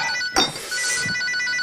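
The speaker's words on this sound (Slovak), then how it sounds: "Telefón." An old-style telephone bell rings in a comedy scene, with a sharp clatter followed by a continuous bright, buzzing ring that holds steady, loud and close.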